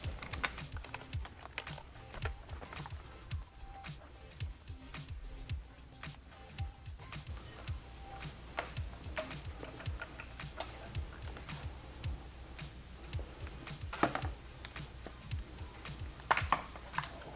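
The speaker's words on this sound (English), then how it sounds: "Now we are ready to remove the actual signal from the bracket here. I will use an 8mm wrench to do that." Small metal clicks and ticks come from an 8mm wrench loosening a turn signal from its bracket on a Suzuki DRZ 400 S motorcycle. The ratcheting taps repeat quickly and close up for the whole stretch, with no talk.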